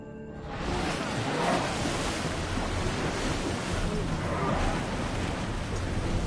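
A ship sails over ocean waves in Assassin's Creed Odyssey: a broad, continuous rush of surf and wind washing against the hull, steady and fairly loud from start to finish, with faint voices in the mix.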